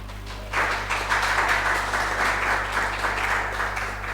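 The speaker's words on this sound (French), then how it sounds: "Applaudissez pour ma fille qui interprète." A church congregation breaks into applause during a service, loud steady clapping that starts abruptly and continues over a low electrical hum.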